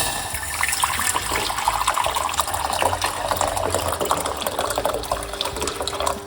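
Water gushes steadily, splashing and filling a pot for several seconds, close and fairly loud with no voices.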